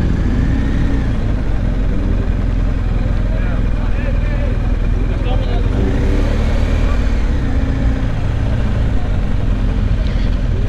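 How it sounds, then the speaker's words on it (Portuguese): Many motorcycles at the Capital Moto Week 2023 event in Brasília, a constant loud blend of engines droning and revving close by, with higher engine whines rising and falling over a heavy low rumble. "Muita moto mesmo."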